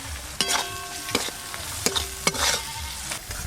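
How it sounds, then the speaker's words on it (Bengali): Spices and chopped tomato with cumin, turmeric and salt sautéed in oil in a pan, a steady close sizzle broken by several sharp spatula scrapes and knocks against the pan. "মশলা বেশ ভালো করে কষে নিয়েছি, তেলও ছেড়ে গেছে।"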